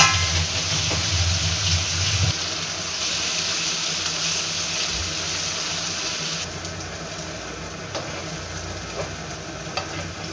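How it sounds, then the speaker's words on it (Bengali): Sliced onions frying with sugar into crispy beresta in a pan give a steady, loud sizzle with occasional stirring scrapes, running continuously without talk. "দেখেন কীভাবে আমি পেঁয়াজ বেরেস্তা করতেছি সেটা একটু দেখেন।"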